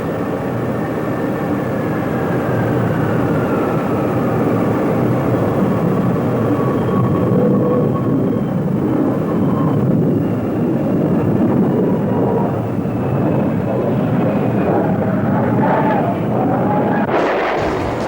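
Engines of a B-52 bomber aircraft roar loudly and steadily throughout, with a slowly shifting whine riding on the dense, rumbling noise.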